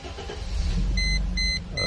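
The 1997 Mercedes S320, a six-cylinder automatic, cranks and catches in a steady low engine rumble up close, while short repeated electronic dashboard chimes beep over it.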